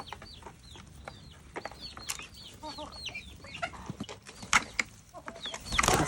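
Several chickens cluck and chirp in quick, overlapping bursts, fairly close, with a few louder calls and some rustling toward the end.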